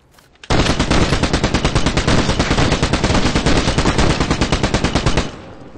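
Sustained MG42 machine-gun fire in the World War II shooter Squad 44, one long, loud, rapid burst of evenly spaced shots that starts abruptly and cuts off after about five seconds.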